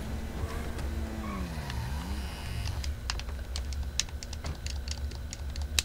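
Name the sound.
player's vehicle engine in the video game GTA Online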